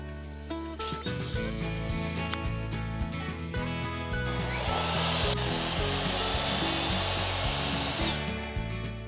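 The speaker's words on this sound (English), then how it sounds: "I'll go ahead and cut the end off this just to give me a nice fresh slice of wood" A gas chainsaw cuts the end off a piece of wood at an off-grid container house. The engine revs loudly and steadily, then grinds through the cut for about nine seconds with no talking.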